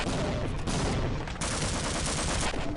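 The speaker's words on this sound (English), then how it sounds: "I got a sick grenade shot off on this bot, and then promptly died." Rapid, dense gunfire and explosive blasts from a firefight in Half-Life: Opposing Force multiplayer, with a grenade launcher shot among them, loud and continuous throughout with no pauses.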